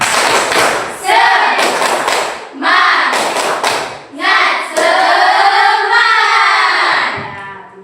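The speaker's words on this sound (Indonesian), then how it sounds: "Tepuk semangat lagi. Tepuk semangat." A classroom of students does an Indonesian tepuk semangat chant, sharp rhythmic group claps in bursts mixed with shouted, sung voices, loud and close, with pauses between rounds.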